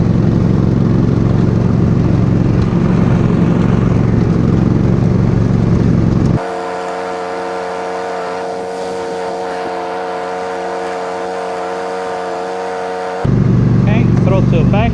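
A Countax B250 garden tractor runs its blade and brush at full power, a steady droning engine and spinning mechanism holding a constant pitch for several seconds between louder, rougher running at the start and end.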